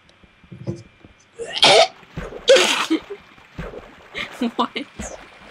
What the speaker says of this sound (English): That's all I'm contributing to this video is cough.